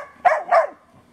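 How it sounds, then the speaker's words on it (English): Two quick barks from a dog close by, a short pair of sharp yips with quiet in between and afterward. "watch it bark at it, it'll get it going"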